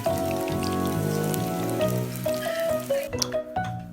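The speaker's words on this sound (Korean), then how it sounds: "마지막은 고구마전. 고구마 3개로 만들어요. 소리만 들어도 맛있네요. 지글지글지글." Sweet potato pancakes sizzle and crackle steadily in a hot pan, close up, with soft music playing underneath.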